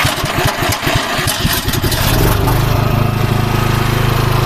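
A Champion CPG9000E2-EU 9.3 kW petrol generator with remote start runs loudly. A choppy, uneven start turns into a steady, even engine drone after about two seconds.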